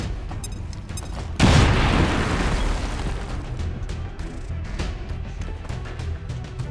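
A grenade explodes in XCOM 2 with a sudden loud, close boom, followed by a long rumbling wash of debris and crackle that slowly fades, with faint clicks before the blast.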